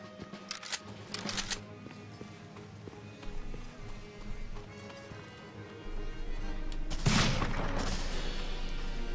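Gunfire at a shooting range in Medal of Honor Frontline, with sharp cracks early, a sparse stretch, then a loud burst near the end over rising background noise.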